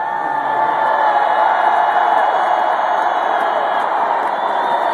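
A huge crowd roars in Michigan Stadium at a record-attendance hockey game, a loud, steady, distant wall of cheering with no break.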